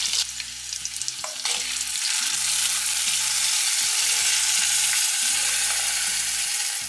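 Curd and coconut paste stirred into an okra curry in a pan, a continuous soft sizzle with rhythmic spoon scrapes and swirls throughout, no talking.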